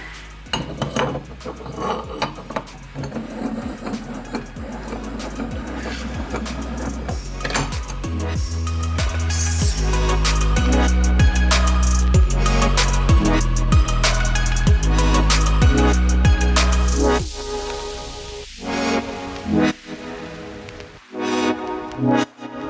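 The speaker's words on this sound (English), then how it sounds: "And you just gotta get it far enough in evenly to put that E-clip back in." An E-clip is pressed back onto an Airlift performance pillow bearing, with a long run of close metallic clicking, clanking and ratcheting, busy and loud in the middle, then sparse scrapes and knocks at the end.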